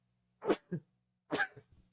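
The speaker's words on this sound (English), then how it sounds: "I told you I'll be sneezing." Two quick, quiet sneezes, each a sharp burst with a short breathy tail, close to the microphone and separated by a pause of about a second.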